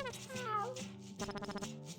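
A cat in the video game Chuchel meows with a rising, drawn-out cry, followed by a short, rattling purr-like trill, close and fairly quiet.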